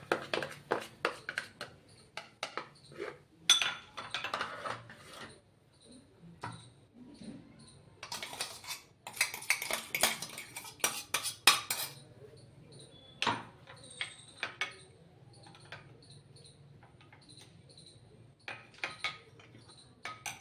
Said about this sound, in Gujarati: આ દહીંને આપણે ફેટી લઈશું